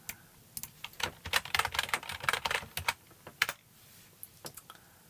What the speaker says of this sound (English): unlock your drive by typing your password.